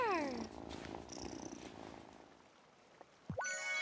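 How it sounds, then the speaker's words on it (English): A cat purrs in the farming video game Wylde Flowers, a soft continuous rumble under bright chiming game effects that come and go, with a rising synthetic tone near the end. "Listen to that purr."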